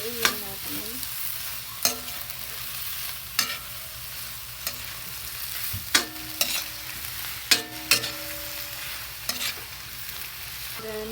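Mussels cooking with oyster sauce in a pan are stirred, giving a steady soft sizzle broken by sharp scrapes and clinks of the utensil against the pan every second or two, close and alone with no voices.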